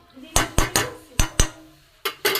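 A spoon strikes and scrapes against a bowl in a string of sharp, close clinks as semolina batter is mixed, seven distinct knocks in uneven rhythm, loud and clear, with no speech.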